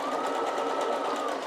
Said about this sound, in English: you're going to go straight across with a straight stitch